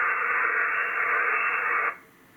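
Loud, steady static hiss from a Yaesu FTDX10 ham radio receiver, alone, cutting off sharply near the end to a much quieter hush.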